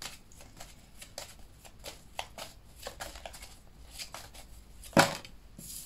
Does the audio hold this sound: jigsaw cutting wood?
no